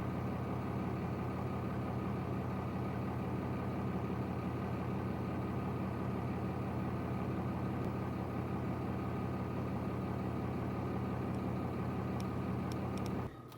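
A car idles steadily with a low, continuous engine drone throughout, while a rope tied to its bumper strains to break a tree limb; a few faint high clicks appear near the end.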